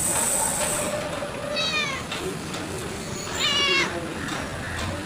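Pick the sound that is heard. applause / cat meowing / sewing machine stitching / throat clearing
cat meowing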